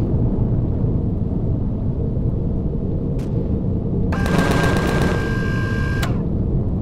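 Gunfire in the video game Empyrion aimed at an enemy gun emplacement: a rapid metallic burst of shots over a constant loud rumbling drone, with a couple of sharp single cracks, no voices.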